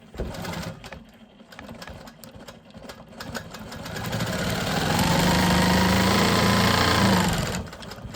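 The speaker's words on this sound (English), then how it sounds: "I'm gonna go ahead and finish quilting this, and I will check back in with you once I finish these straight lines" A sewing machine quilts straight lines on bag panels, its motor whirring in short bursts before settling into a longer, steady, close run that stops near the end.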